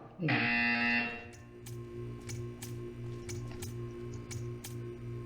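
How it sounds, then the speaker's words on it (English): A buzzer in the video game Portal 2 rings out loud and harsh for about a second, then gives way to a quieter electrical hum scattered with faint clicks. "You will hear a buzzer. When you hear the buzzer, stare at the art."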